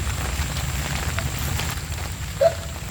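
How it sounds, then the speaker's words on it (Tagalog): Rain falling outdoors, a steady dense hiss of drops at moderate loudness throughout, with a faint short chirp near the end and no speech. "At umuulan eh."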